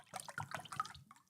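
Liquid pours in short gurgling bursts, close and fairly clear, with no talking over it.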